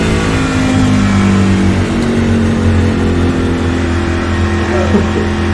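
A race car engine drones steadily in a racing video game, a sustained mid-pitched hum with slight pitch shifts, loud and continuous throughout.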